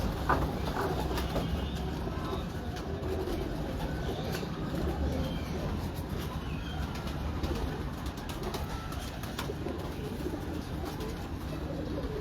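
Soft, repeated cooing from a large breeder pigeon in a loft, set against a constant low rumble of background noise.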